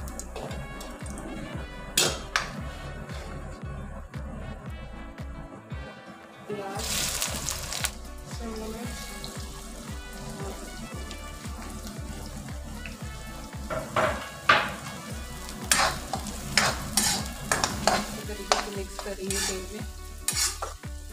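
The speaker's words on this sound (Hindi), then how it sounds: "इसमें मैं डाल रही हूँ थोड़ा सा जीरा" Cumin seeds frying in hot oil, a soft crackling sizzle under a steady rhythmic thumping, with bursts of stirring and clattering scrapes scattered through.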